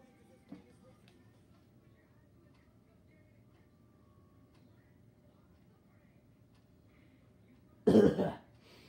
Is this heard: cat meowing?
no